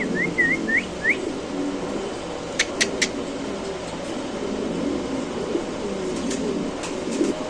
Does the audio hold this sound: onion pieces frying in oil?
no